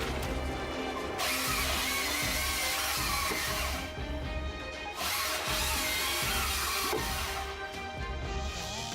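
A Stihl MS 500 chainsaw cuts through giant blocks of wood, making a loud, continuous rasping roar that dips briefly between cuts and then resumes.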